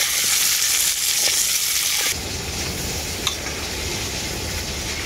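Cut hog plums (amra) fry in oil with bay leaf and dried red chili for a pickle, a loud steady sizzle that drops slightly partway through, with a single sharp tap of a spoon, no talk.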